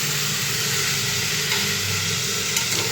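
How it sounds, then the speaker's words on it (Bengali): Beans, potatoes and tomatoes fry with salt in a pan while being stirred, giving a steady close sizzle and hiss with occasional soft scraping, and no talk. "বিনস, আলু, টমেটো দিয়ে একটু নাড়াচাড়া করে নেব"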